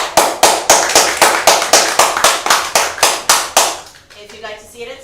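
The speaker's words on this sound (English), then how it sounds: "So clap if you would like to see the meeting at Henrietta's house." A small audience claps in unison at a storytelling night, a steady rhythmic run of about a dozen sharp claps that stops abruptly, followed by faint talking.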